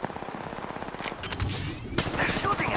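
Gunfire rattles in a match of Apex Legends, quick repeated shots in rapid bursts that grow louder toward the end, with voice lines and chatter mixed in.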